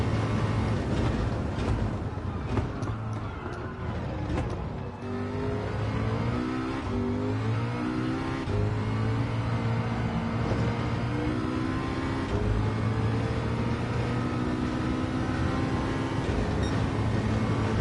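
A race car in the video game Gran Turismo 7 drives an online daily race, its engine droning loudly and steadily with repeated rises and falls in pitch as it revs through gear changes.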